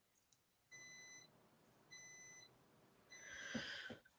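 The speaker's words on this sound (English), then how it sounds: "the beeping noise is the bathtub" Three spaced electronic beeps sound from a bathtub water heater, each lasting about half a second, with a faint hiss and some clatter near the end.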